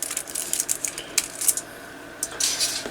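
Aluminum foil is cut and pressed into a lid during a homebrew UHF duplexer cavity build, giving close crinkling and crisp rustling with small sharp crackles in uneven bursts.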